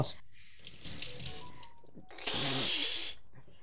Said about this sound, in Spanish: Es una mega salpicada esta.